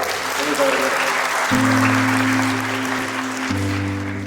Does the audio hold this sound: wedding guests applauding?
yes